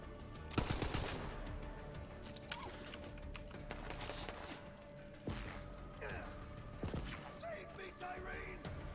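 Gunfire in the Borderlands 3 video game: scattered sharp shots and short bursts at moderate distance, mixed with mechanical clatter, voices and game sounds underneath.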